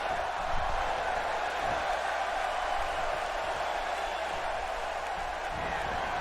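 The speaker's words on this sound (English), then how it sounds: "This crowd definitely behind the European sensation." A large arena crowd at the WWE SummerSlam 2023 wrestling event roars and cheers in a steady, dense wash of noise that carries on without a break, with faint commentary voices underneath.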